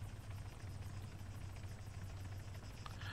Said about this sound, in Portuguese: chegou um helicóptero aqui na cidade